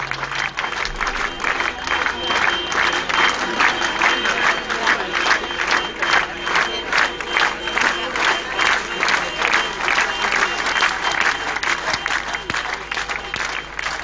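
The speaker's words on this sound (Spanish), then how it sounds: "estamos escuchando a la gente no gritar, aplaudir respetuosamente" A crowd gathered outside a police station applauds in steady rhythmic unison without shouting, loud and sustained throughout, with faint voices mixed in.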